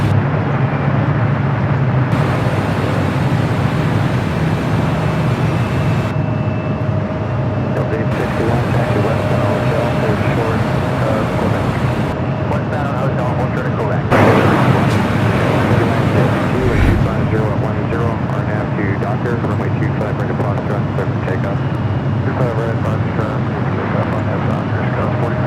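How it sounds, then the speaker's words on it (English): A Lufthansa Airbus A380 in 100th anniversary livery takes off from LAX bound for Munich, its engines a steady, loud broadband roar that holds throughout, with a person talking over it. "the Lufthansa 100th anniversary livery A380 Super heading back to Munich, flight 453"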